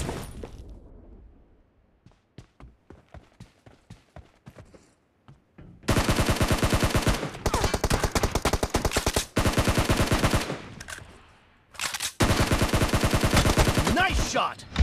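Rapid automatic gunfire in a video game team deathmatch, loud dense bursts filling several seconds after a quieter stretch of scattered single shots, with brief gaps between long volleys.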